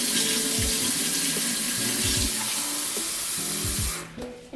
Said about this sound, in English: we're gonna put the water in there, and then we're gonna whisk it around until it's like a really milky texture